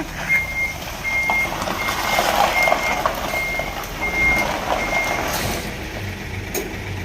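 A truck with a faulty right air suspension reverses, its backup alarm beeping in a regular repeating pattern over a low diesel engine rumble, heard fairly close with no talking.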